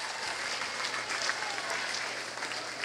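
A crowd at an indoor swimming race at Whitworth University, during the 2009 National Veterans Wheelchair Games, applauds and cheers as a swimmer hits the wall: dense, continuous clapping that fills the space at a steady level.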